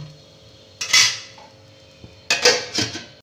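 A metal lid set onto a cooking pot of drumstick pods steaming over a low gas flame, giving two bright clattering clanks about a second and a half apart over a quiet background.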